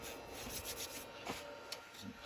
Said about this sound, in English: I'll do some sanding paste on the inside